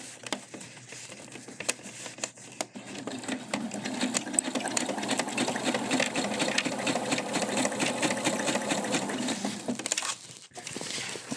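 A sewing machine top-stitches a fabric bag with a fast, even mechanical whir that runs steadily for several seconds with brief pauses, close and fairly quiet.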